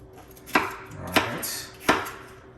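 Knife cutting a sweet pepper into big slices on a cutting board, three sharp distinct chops about half a second apart, each a crisp knock against the board, close, with no talking.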